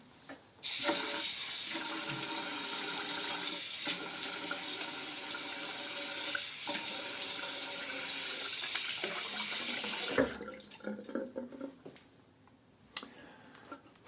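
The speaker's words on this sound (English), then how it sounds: "because I want to wet my face prior to the shave." Bathroom tap running steadily into a sink as water is used to wet the face before shaving, continuous close rush for about ten seconds, then shut off, followed by splashing and light handling sounds.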